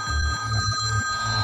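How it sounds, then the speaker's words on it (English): A telephone rings with a steady, bright electronic tone, repeating in short pulses close to the microphone, with no voices over it. "Come on, answer the phone."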